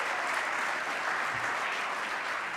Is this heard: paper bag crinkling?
no